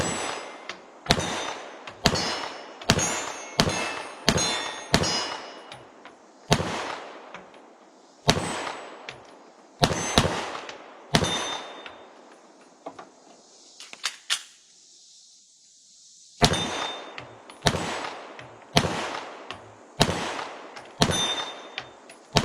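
Walther PDP Pro X pistol firing at steel targets from about 15 yards, a string of sharp, loud shots with ringing metallic clangs, spaced in quick bursts with a brief lull midway.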